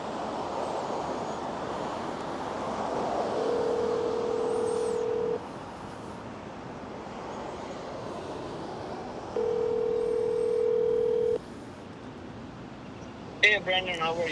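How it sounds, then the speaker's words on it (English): Phone keypad tones and a ringback tone on an outgoing call, two long steady ring pulses over constant wind or road noise, with faint beeps near the end. "real quick, I'll do a call to my guy"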